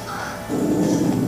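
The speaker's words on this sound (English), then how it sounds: "We don't need to hear you bark every single day." A dog barks and growls in a short burst of yips during an Overwatch match, heard near and fairly loud against game sounds.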